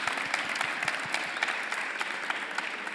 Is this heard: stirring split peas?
no